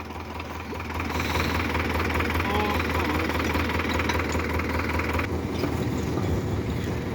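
A tractor that has just been pulled free after getting stuck runs close by, its engine idling with a steady, heavy, knocking chug that stays loud throughout.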